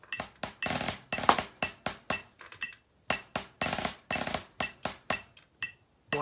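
Snare drum buzz rolls played in a 16th-note sticking pattern for a middle school audition etude: a steady run of sharp, crisp strokes with short sustained buzzes, close and moderately loud, heard alone without talk.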